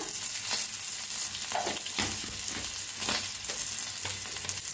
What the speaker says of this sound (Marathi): आता ओतूया थोडस तेल, थोडस जिरं टाकायचं